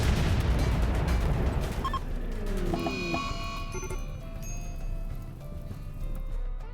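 A nuclear blast in the colony-building game RimWorld rumbles loud and sustained for about two seconds, then fades into a lingering low roar with scattered metallic pings and tonal game effects over a steady background bed.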